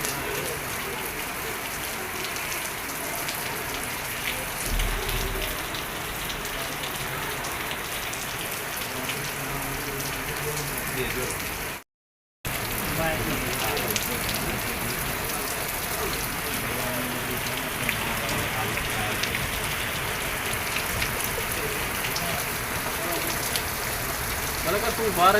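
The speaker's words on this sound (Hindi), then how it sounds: "बारिश शुरू थी गई है काफ़ी तेज़" Heavy summer rain pours down steadily, a dense continuous hiss of drops on surfaces that stays loud throughout, broken only by a brief silent gap midway.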